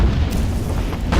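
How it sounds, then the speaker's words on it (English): A heavy naval gunfire explosion in the video game Battlestations: Pacific, one loud, close, booming blast with a deep rumbling body that fills the whole short moment. "And I'm taking naval gunfire here."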